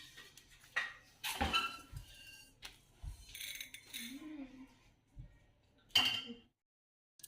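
Roasted cumin and fenugreek seeds are tipped into a small bowl, giving a few sharp clinks and light rattles of seeds against the dish, spaced out over quiet moments with faint low background noise.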